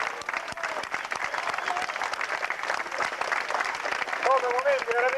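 Crowd applause at a memorial event in Buccheri, Sicily, steady and fairly close, with voices talking underneath and a brief whistle-like tone near the end.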